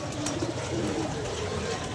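Pigeon near water, soft cooing tones low under constant broad background noise and indistinct voices, faint and continuous.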